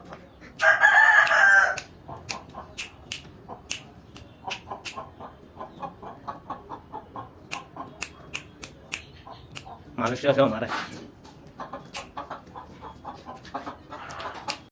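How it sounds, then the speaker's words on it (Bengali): Serama chickens, the world's smallest chicken breed, give a loud crow near the start and another burst later, with scattered clucks and clicks under someone talking throughout. "এগুলো হচ্ছে সেরামা মুরগি, ওয়ার্ল্ডের একদম স্মলেস্ট মুরগি।"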